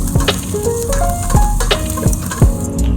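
Garlic and onion sizzle steadily in hot oil in a pan as a base for Filipino sopas, with occasional stirring clinks and scrapes over the constant frying hiss.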